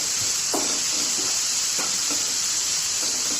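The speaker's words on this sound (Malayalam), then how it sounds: "നന്നായിട്ടൊന്ന് മിക്സ് ചെയ്ത് കൊടുക്കാം." Grated carrot frying in a pan over medium flame, a constant loud sizzling hiss with a few soft scraping strokes of stirring, no talking.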